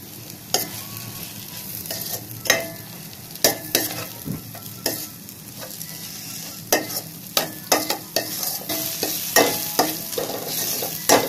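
Okra frying in a pan for a Tamil-style ladies finger poriyal, with a constant close sizzle and frequent scraping, clattering strokes of a spatula stirring the pieces in an irregular rhythm.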